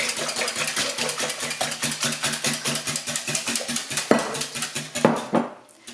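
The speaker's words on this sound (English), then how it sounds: "I'm going to give those a quick stir" Eggs whisked briskly in a bowl for a crustless coconut impossible pie, a fast, even run of clinking utensil strokes against the bowl, close and clear before slowing and stopping.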